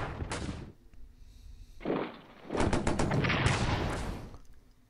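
Artillery fire from the World War I strategy game Strategic Command World War I: a sharp burst of booming shots, a pause, then a louder, sustained volley of rapid overlapping blasts lasting a couple of seconds.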